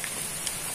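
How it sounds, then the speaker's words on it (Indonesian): Heavy rain pours down on an oil palm plantation, a dense steady hiss of drops with a few brief louder patters, close and continuous without any talking. "di kebun sawitnya juga diguyur hujan"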